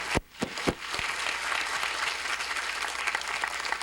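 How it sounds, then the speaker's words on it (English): A lecture audience claps to welcome a speaker at a talk on North Korea; a few sharp, close individual claps open before the applause settles into a steady, moderate patter. "Please join me welcoming him with a big applause."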